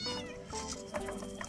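A small cat meows several times in an indoor setting, close and fairly clear, with a child's or adult's voice faintly mixed in.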